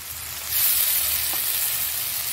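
A paste of ginger, garlic and green chilli hits hot oil in a pan, bursting into a steady, close hissing sizzle that continues without pause under faint stirring.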